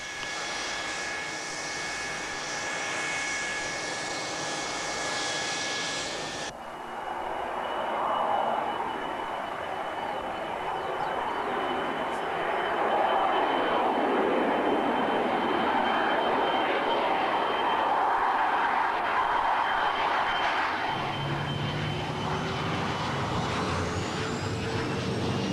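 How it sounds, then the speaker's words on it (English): A British Airways jet airliner's engines roar steadily and loudly as it takes off, the broad rumble swelling and holding before easing slightly toward the end. "Once off the ground, a British Airways plane will climb away steeply."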